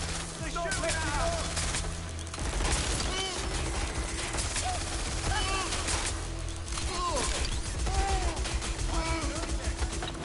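Gunfire from the video game Watch Dogs: Legion, repeated shots and bursts crackling over continuous game music and effects, steady and loud throughout with a voice talking over it.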